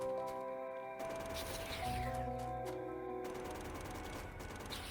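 Rapid bursts of automatic gunfire from the game Factorio, 0.15, steady crackling volleys under a continuous electronic music bed, no one talking.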